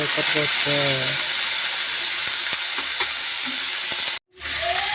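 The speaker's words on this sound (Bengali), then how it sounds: "শাকটাকে ভাজছি এবার ভালো করে" Pumpkin leaves fry in a pan with a loud, continuous hissing sizzle and occasional stirring clicks, while a voice speaks briefly at the start.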